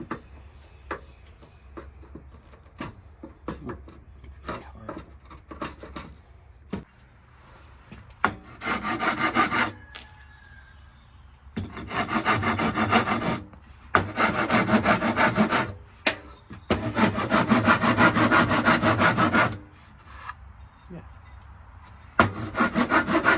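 Hand chiselling of wood while making custom pintles gives repeated scraping, rasping strokes, sparse taps at first and then longer steady bursts of rubbing, close and alone.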